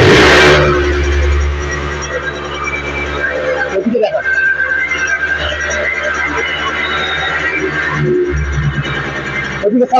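A second-hand Japanese Honda motorcycle engine revving up close, loud and sustained with a rising rev near the end, people talking around it.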